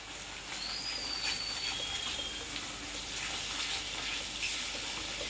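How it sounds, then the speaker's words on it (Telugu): Ajwain (carom seeds) frying in hot oil, a steady soft sizzle and crackle that holds at an even level throughout, with no talking. "ఇప్పుడు కొంచెం వామ్ వేసుకుందాం వామ్ కూడా కొంచెం వేగాలి"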